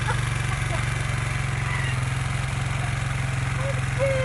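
A motorcycle engine during wheelie practice, a steady low rhythmic chug at moderate volume, with faint brief rises near the end and voices speaking over it.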